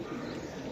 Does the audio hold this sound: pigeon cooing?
yes